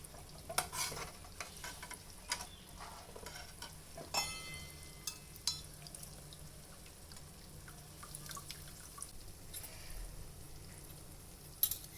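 Athirasam, a sweet made from rice flour, frying in hot oil with a soft, steady sizzle. Occasional sharp clinks and stirring scrapes come from the pan, close by and with no talking.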